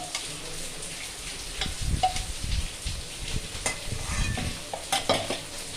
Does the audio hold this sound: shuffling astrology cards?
no